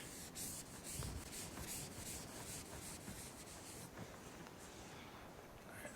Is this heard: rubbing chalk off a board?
yes